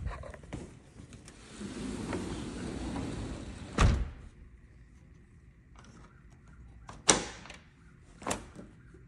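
A 3D-printed cog door lock mechanism clicks shut in a few sharp mechanical knocks, one near the middle and two more toward the end, after a stretch of low rumbling handling noise; fairly close and moderately loud.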